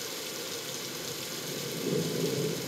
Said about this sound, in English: Does it ever stop raining in this fucking place?